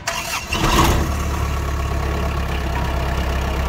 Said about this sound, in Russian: Запуск. Думаю, все заметили, работает легко, четко, без проблем.